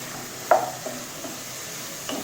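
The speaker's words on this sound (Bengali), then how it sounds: "আমি এর ভিতরে এখন কাঁচা টমেটোটা দিয়ে দিচ্ছি" Green tomato dropped into fried spice paste in a pan, giving one sharp sizzling burst with stirring scrapes, then a low steady frying hiss and a second faint stir near the end.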